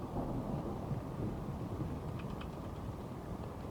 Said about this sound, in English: Is it just raining or is it storming?